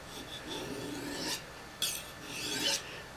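A knife of S110V steel being honed on a honing steel: several rasping metal strokes, the longer scrapes around the middle and end standing out, close and alone with no talk.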